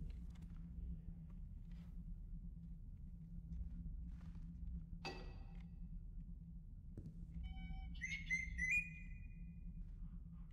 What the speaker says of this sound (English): Nice little bird.